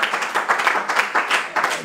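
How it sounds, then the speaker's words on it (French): An audience applauds loudly for Madame Gloriane Malala at the final of a dairy show competition, with dense, steady clapping in pulsing waves throughout. "Je vous prie d'applaudir très fort pour Madame Gloriane Malala"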